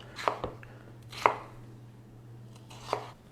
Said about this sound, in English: We're going to cut into small cubes.